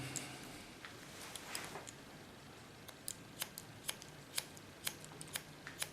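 Scissors snip hair while a bob haircut is cut along a guide line, giving close, crisp cuts at an irregular pace against a steady background hiss that grow more frequent toward the end.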